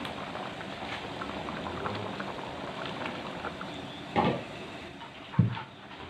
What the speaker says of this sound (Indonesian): gulainya sudah mendidih dan sekarang saya masukkan santan sahabatku ya.